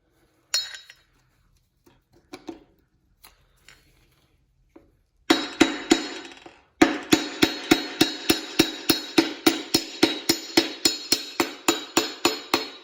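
On a 1979 Audi Fox GTi under restoration, a hammer first taps a car part a few times, then pounds it in a fast, steady run of sharp metallic blows, close and loud; no voices.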